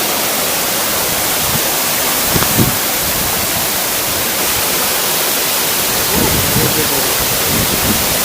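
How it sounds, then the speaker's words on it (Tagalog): Jidanao Falls, a waterfall in Jiabong, Samar, heard from its top as a steady, loud, broadband roar of falling water that continues without pause. "Beautiful waterfall."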